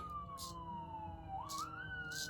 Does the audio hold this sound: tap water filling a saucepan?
no